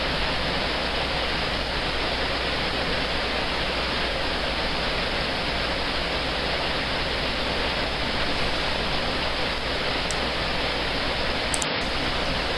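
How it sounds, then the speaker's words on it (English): Rushing river water near a swing bridge, a loud, constant broadband roar of white water that stays steady and close for the whole stretch. "sit down and enjoy the rushing water"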